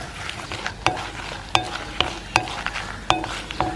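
Fourteen whole dried chillies fry in coconut oil with a constant crackling sizzle, broken by sharp periodic clicks and scrapes from a spoon stirring the pan, close and fairly loud, no voices.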